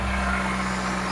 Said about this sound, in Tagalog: Ano kasi, cold start pa yan, kaya mataas pa yung idle niya.